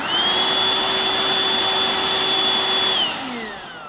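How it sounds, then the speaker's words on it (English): A vacuum cleaner runs loud and close with a steady high motor whine, then winds down at the end as its pitch drops away. "I thought we talked about this vacuum cleaner"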